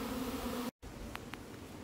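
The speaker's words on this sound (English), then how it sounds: "But they're back to the hive and starting to fan a little bit," Honeybees from a swarm fan at the hive on a windy day, a faint insect buzz under wind noise, broken by a brief gap.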